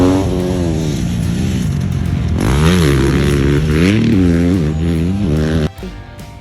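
Yellow motorcycle engine revving loudly up close, its tone swinging up and down in repeated throttle blips over a steady rumble before cutting off abruptly near the end.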